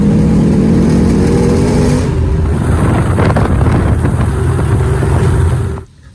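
A classic car at a Waterbury, Vermont car show drives and pulls in, its mid-pitched engine running steadily and fairly close before cutting off abruptly at the end.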